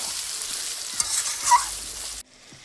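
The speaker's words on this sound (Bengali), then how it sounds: "তারপরে মাংসটা নেড়ে চেড়ে নেবো" Meat and potatoes for biryani are stirred in a sizzling pot, a continuous hiss of frying with soft scraping from the spoon, close and steady before cutting off abruptly near the end.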